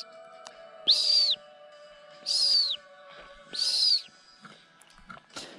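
A voice imitates a bird with three high-pitched whistled notes, each short and evenly spaced, heard clearly in a quiet setting.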